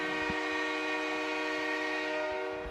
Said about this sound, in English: Get used to that train horn.